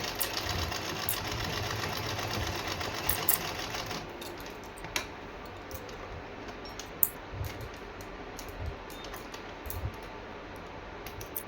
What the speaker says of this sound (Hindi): ये देखो ये लगा ली मैंने सिलाई